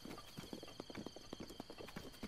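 Horse hooves clip-clop at a quick, steady gait in The Legend of Zelda: Breath of the Wild, a dense run of soft hoofbeats close up over a faint ambient bed.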